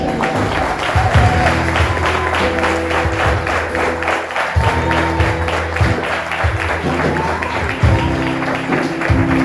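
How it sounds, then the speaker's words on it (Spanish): Loud, sustained applause from a large church congregation, clapping steadily throughout with voices mixed in underneath. "Dale un fuerte aplauso."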